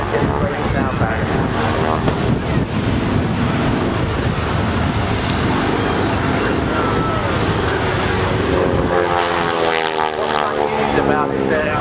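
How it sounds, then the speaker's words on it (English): At high power, the radial engine and propeller of a North American T-6G Texan give a loud, continuous rasping roar at Shoreham, with the tone sweeping as the plane passes. "It's propellers because of the high power settings and the speed of the propellers turning."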